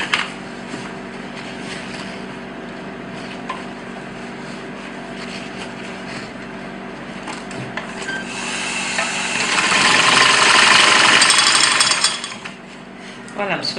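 A sewing machine stitches the crown of a hat with a fast, continuous mechanical rattle, steady at first and then growing louder and busier near the end before stopping.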